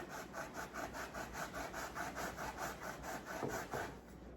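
A dull kitchen knife saws back and forth on a cutting board in quick, even rasping strokes, about a dozen close scrapes before it stops.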